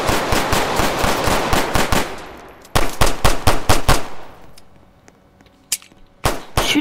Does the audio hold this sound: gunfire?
yes